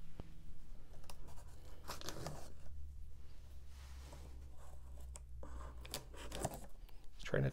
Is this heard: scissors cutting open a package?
yes